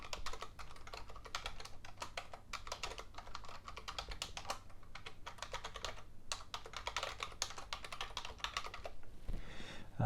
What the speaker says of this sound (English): And let's put in the admin root password.